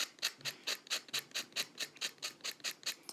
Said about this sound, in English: I've got some 320 sandpaper here, and I'm just going to lightly take away